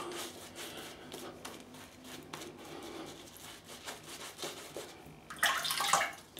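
Proraso Cypress and Vetiver shaving cream being lathered with a little added water: soft wet rubbing and swishing, faint and close, with a brief louder splash of water near the end.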